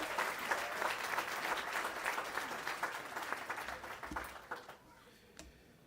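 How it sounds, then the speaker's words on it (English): An audience at a Southern California graduation commencement applauds a West Covina city councilman, a full sustained round of clapping that thins out and fades to a few scattered claps. "Let's give one more round of applause to West Covina City Councilman, Mr. Ali Cantos."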